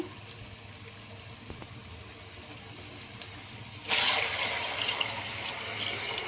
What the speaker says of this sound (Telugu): ఇప్పుడు వాటర్ వేసుకోవాలి ఒక కేజీకి వన్ అండ్ హాఫ్ కేజీ డబ్బా వేసుకోవాలండి